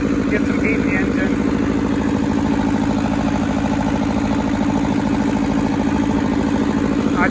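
A Hinomoto tractor's rusty old engine idles and runs steadily up close, with a continuous low rumbling chug and mechanical clatter that stays loud throughout.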